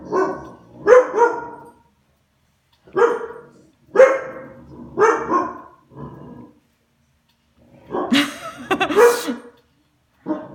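A pet dog barks in close, loud bursts, first a pair, then a cluster of three, then a rougher, noisier volley with sneeze-like snorts, separated by short silences and with no speech.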